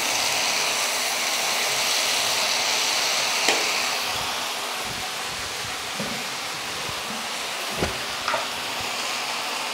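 Okra masala being stir-fried in a pan gives a steady close sizzling hiss, with occasional sharp scrapes and taps of a spatula against the pan and no talking.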